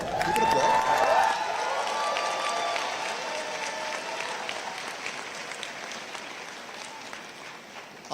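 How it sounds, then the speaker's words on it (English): Sustained audience applause at the Charter Oak State College 2019 commencement, a dense steady clatter of many hands with a few whoops near the start, holding loud for about eight seconds and slowly thinning toward the end. "I also, give it applause."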